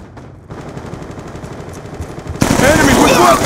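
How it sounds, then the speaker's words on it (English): A Death Machine minigun spins up with a rising whir before opening into a loud, continuous roaring stream of rapid fire in Black Ops 2 multiplayer, close and dominating. "Be advised, hostile death machine spinning up."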